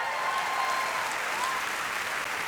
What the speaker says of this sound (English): While that applause is going